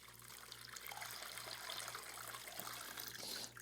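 Water tips from a small bucket over the mats of a Gold Cube gold concentrator, a steady trickling pour running continuously at moderate, close range with no talking.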